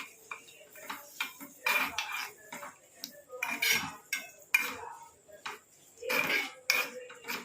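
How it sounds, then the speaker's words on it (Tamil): Henna leaves, mixed with another dark herb for hair dye, stirred in a pan as they dry and crisp, giving irregular scraping and clinking of a utensil against the metal, close and fairly quiet. "அது வரைக்கும் இந்த மாதிரி மிக்ஸ் பண்ணி விட்டுகிட்டே இருங்க கிண்டி விட்டுக்கிட்டே இருக்கலாம்"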